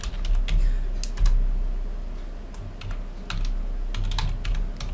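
A password goes in on a computer keyboard in quick, irregular bursts of close, crisp key clicks with short pauses between, and no voice.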